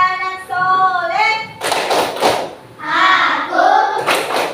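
A group of schoolchildren performs a rhythmic clap chant, sharp hand claps and thumps alternating with chanted sung lines in a classroom.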